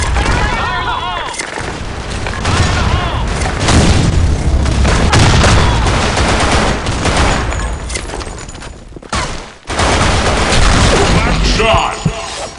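Grenade explosions and gunfire from the online shooter BlackShot on the Sand Storm II map: a loud, dense, almost unbroken barrage of blasts and rapid shots, with one brief drop near the end before the firing resumes.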